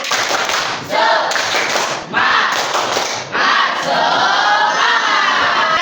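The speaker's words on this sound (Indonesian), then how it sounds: "Tepuk semangat" A class of students performs a rhythmic spirit clap together, loud bursts of group clapping with shouted chant-like voices in short repeated phrases, filling the room.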